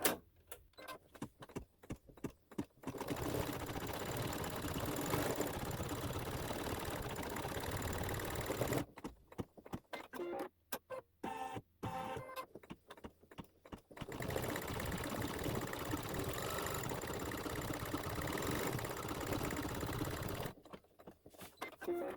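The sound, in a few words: sewing machine sewing a satin stitch on a quilt block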